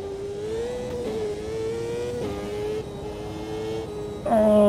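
Race car engine in the Automobilista 2 sim, droning at steady mid pitch as the car rolls through a corner, then rising sharply in a loud rev near the end.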